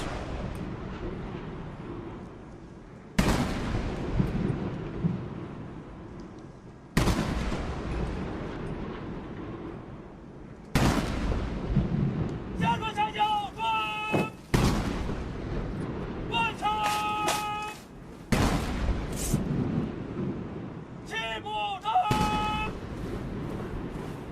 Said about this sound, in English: An 80-gun salute is fired to mark the 80 years since the victory of the War of Resistance.